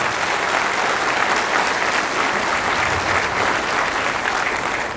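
Dense, steady applause from a large audience, loud and sustained throughout without a break.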